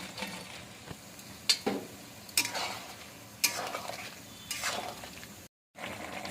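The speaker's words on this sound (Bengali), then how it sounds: "এখন ফুলকপি ফ্রাইগুলো দিয়ে দিচ্ছি।" Fried cauliflower pieces stirred into boiling gravy for cauliflower Manchurian, quiet bubbling and sizzle punctuated by several distinct scraping strokes of a spoon against the pan, ending with a brief cut to silence.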